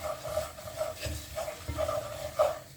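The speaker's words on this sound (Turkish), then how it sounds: "Şöyle bir dolu tatlı kaşığı kişniş atıyorum. Ve kavuruyorum." Coriander for chicken soup dry-roasts in a pan, giving a soft, crackly rustle, with rhythmic scraping stirs close by at a moderate level.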